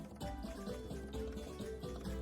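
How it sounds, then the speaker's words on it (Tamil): Saffron-tinted hot water pours and trickles into a pan for Tamil-style rava kesari, a soft, steady liquid splashing sound close by with faint background hum. "குங்குமப்பூவை சுடுதண்ணியில் கலந்து இதில் சேர்த்துருக்கேன்."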